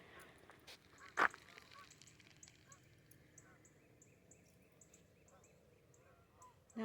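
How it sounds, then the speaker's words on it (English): Geese honk faintly overhead in flight, scattered calls drifting in and out against quiet outdoor background noise. "Oh, the geese are flying through."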